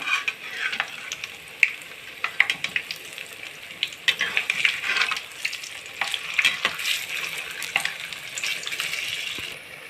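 Small batches of urad dal vadas deep frying in a pan of oil, bubbling and crackling in uneven bursts with sharp pops and occasional utensil taps, close and fairly loud.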